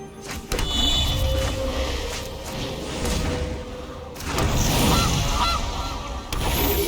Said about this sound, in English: I also have a goose.